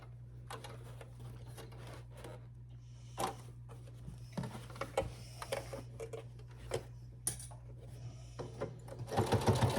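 A sewing machine stitches a summer tote bag with a quiet mechanical hum, with intermittent clicks and ticks from the needle over roughly ten seconds.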